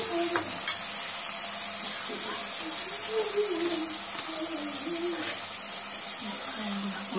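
Onions sautéing with a pinch of salt for a dried fish egg (karuvadu muttai) curry, a constant bright sizzle with occasional stirring knocks while a voice murmurs faintly underneath.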